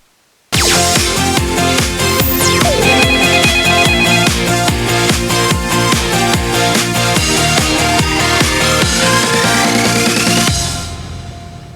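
A telephone rings in steady repeated electronic trills during a live radio legal-advice show as a caller's line connects, loud and sustained for about ten seconds before cutting off.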